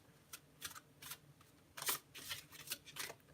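Tarot cards being shuffled by hand during a reading, a series of quick papery riffles and slides in short bursts, fairly faint and close, with no talking over them.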